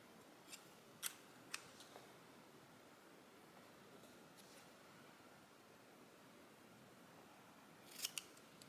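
Scissors snip through Happy Planner paper in a spring florals vertical layout: a few faint, sharp cuts stand out from a quiet background hiss, two near the start and a pair close to the end.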